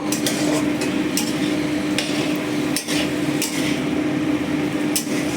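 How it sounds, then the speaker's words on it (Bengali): Oats khichuri with spices and chili powder fries in a pan, giving a steady close sizzle broken by regular sharp spatula taps and scrapes against the metal. "আমি সমস্ত কিছু দিয়ে এটা একটু ভালো করে ভাজবো।"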